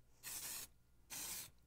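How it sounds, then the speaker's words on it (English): Two bursts of Baker's Joy flour-and-oil baking spray hiss out of the can, each lasting under half a second with a short pause between them. The sound is close and fairly loud, and no one speaks over it. "I want you to see the difference when I spray this on"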